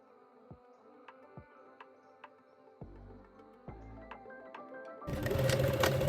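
Sewing machine top-stitching the pocket opening of wide-leg pleated shorts, with soft intermittent ticks and short whirs, quiet and close, ending in a louder steady run.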